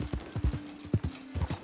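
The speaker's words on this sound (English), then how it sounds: "Just riding my horse" Horse hooves clip-clop steadily as a horse is ridden in the Red Dead Redemption 2 video game, with a rhythmic series of close, soft thuds over a faint steady hum.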